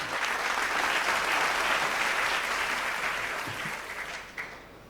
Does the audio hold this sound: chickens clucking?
no